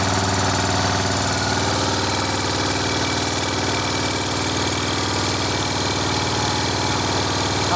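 A Morini motorcycle engine idles steadily with its rocker boxes off, a constant mid-pitched drone overlaid by a fast metallic valve gear rattle, close and loud throughout with no talking.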